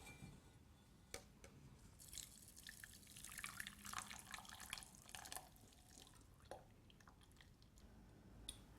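Vanilla panna cotta cream poured through a sieve into a jug, giving a soft, steady trickle with wet drips and splashes close by, quiet and without talk.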